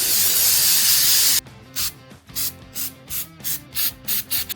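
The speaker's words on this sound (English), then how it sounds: "so we're gonna use MAF sensor cleaner" MAF sensor cleaner sprays in one long steady hiss onto a BMW part, then breaks into a series of short, rhythmic bursts with brief pauses between them.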